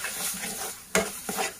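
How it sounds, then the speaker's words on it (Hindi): Mustard greens sautéing over a medium flame for a Sindhi saag: steady soft sizzle with a spoon stirring, two sharp scrapes against the pan standing out near the middle and end, no voices. "हम इस तरीके से इसको भूनेंगे और इसका फ्लेम आपको मीडियम पे रखना है।"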